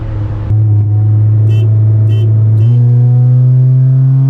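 Honda car with an exhaust leak accelerating hard in a roll race, a loud steady engine drone rising in pitch as it pulls, heard from inside the car without talk.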